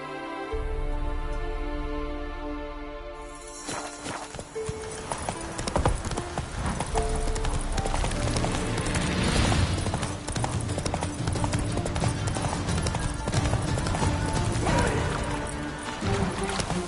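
Hooves of a horse in The Witcher 3 video game clatter in a fast, steady gallop, loud and close, with game music and ambience layered underneath after a brief quiet opening.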